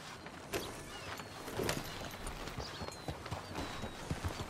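Horse hooves clip-clop at a walk in the video game Red Dead Redemption 2, faint and fairly quiet, with soft irregular footfalls and light tack rattles over a low outdoor ambience.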